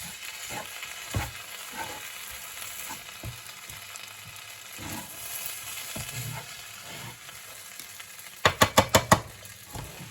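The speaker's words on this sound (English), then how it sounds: "And now I'm going to add my veggies in here." Stir-fried vegetables are tipped into a hot pot and fry with a soft, steady sizzle, broken by scattered clinks and scraping stirs. A quick run of sharp metallic taps sounds near the end.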